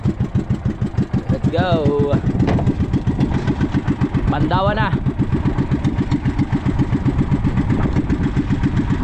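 A boat motor starts and rumbles loudly in a fast, steady putter close by, while people shout briefly over the noise.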